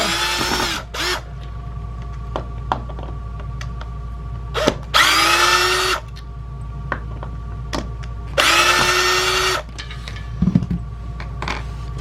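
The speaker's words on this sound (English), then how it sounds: "So all you gotta do, take these screws out." A power drill backs screws out of an RV keypad door lock cover in two short bursts of high whirring, each about a second long, with small clicks and handling knocks between them, close and fairly loud.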